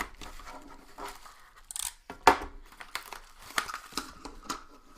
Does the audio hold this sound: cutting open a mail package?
yes